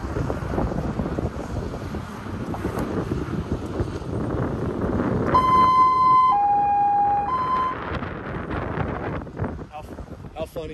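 A siren wails with steady two-tone pitch changes partway through, over loud wind rumble and background noise, off-road near Big Bear, California.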